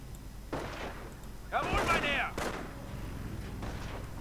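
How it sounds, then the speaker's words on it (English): Sniper and rifle fire in a real-time strategy game, several sharp gunshot cracks spread across a few seconds, with one louder ringing shot near the middle, all under a commentator's voice. "Continued sniper fire"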